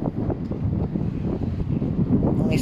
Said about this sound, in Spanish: Ya veis que hace viento, se me mueve el pelo